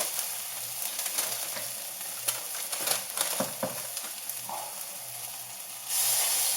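Zesty beef turnovers frying in hot oil in a #8 Lodge cast iron skillet, a steady close sizzle with crackling pops and stirring scrapes, swelling louder near the end.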